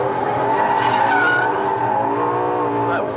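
A Ferrari LaFerrari pulls hard in third gear, its loud engine note climbing steadily and filling the whole stretch with a dense, harmonic roar close to the microphone.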